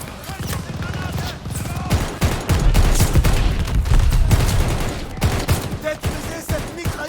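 Loud sustained bursts of machine-gun fire and fusillades in Call of Duty Vanguard, a World War II shooter, with dense rapid shots and booming impacts while shouting voices call out over the battle.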